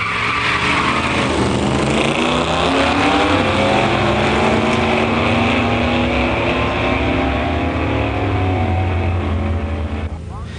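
Two cars launch down a drag strip in a pure stock race, a 1972 Dodge Challenger 340 automatic against a 1973 Dodge Dart 340 automatic, loud engines climbing through rising gear sweeps and shifting, with an announcer talking over them.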